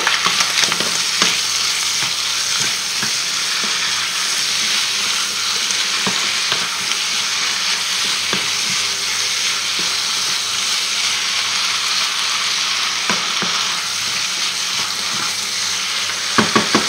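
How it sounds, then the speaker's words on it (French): Mushrooms sizzle in a hot pan for a chicken blanquette, a dense, constant frying hiss with occasional crackles and soft stirring clicks, close and loud with no voices. "On ajoute nos champignons."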